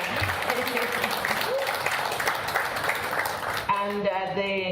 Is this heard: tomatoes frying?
no